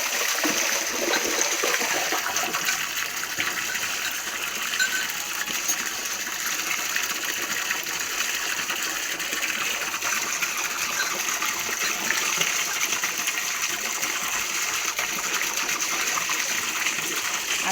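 A steady gush of water flows from a pipe as a cow drinks, an unbroken hissing stream close by and alone for the whole stretch.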